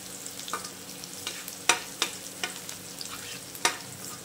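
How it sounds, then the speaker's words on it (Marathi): Thick garlic paste frying in hot oil for a raw mango dish, a steady close sizzle broken by sharp scraping stir strokes roughly every half second. "आपले लसूण छान करपून आहे, छान लाल झाल्यात।"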